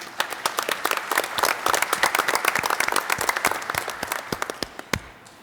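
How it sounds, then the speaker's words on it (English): Audience at a school board of education meeting applauds an honored teacher, a close burst of crisp individual claps that thins out toward the end. "If we can give her a nice round of applause, please."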